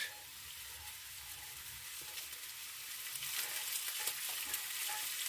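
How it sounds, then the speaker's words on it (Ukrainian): Minced meat sizzling in a frying pan on top of potatoes, a steady crackling hiss that swells slightly as it goes, quiet and close with no voices. "Тепер викладаємо зверху фарш."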